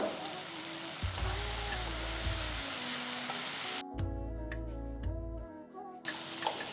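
Chopped tomatoes fry in a pan for Rayalaseema pulagam palli chutney as coriander and curry leaves go in, giving a steady close sizzle with low humming tones and brief stirring scrapes.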